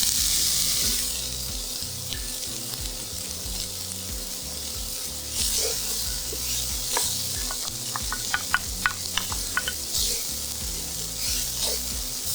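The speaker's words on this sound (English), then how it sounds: "Now we're gonna throw in our onions." Chopped onions dropped into reserved hot bacon fat sizzle steadily in a pan for a bacon dirty rice dish, with a sharp burst of frying and a few clicks and stirs of a utensil partway through.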